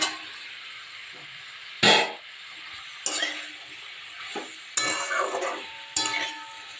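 Green tomato chili mixture frying in a pan as onions go in: a steady background sizzle broken by four sharp scraping clatters of a spoon against the pan, spaced a second or so apart, with no talking.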